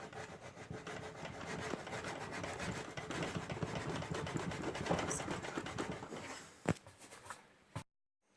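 Toyota Avensis wing bodywork being gently rubbed with a block, a soft continuous scraping and rasping close up with quick back-and-forth strokes, ending in a couple of sharp knocks before cutting to silence.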